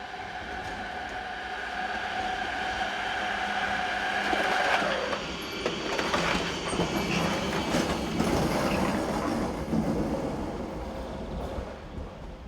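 A BLS locomotive, number 485014, runs light back to the depot on the Thun–Kandersteg line in Switzerland, its rumble and rail noise steady and fairly close, with a squeal fading early on and clattering wheels continuing throughout.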